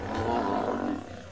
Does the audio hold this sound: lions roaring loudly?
yes